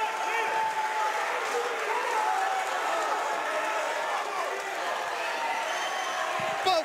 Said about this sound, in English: The crowd's getting behind it.